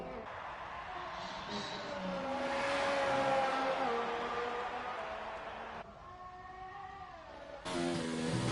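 Racing car engines in a video game roar and rev continuously, rising and shifting in pitch, with voices talking over the steady engine noise.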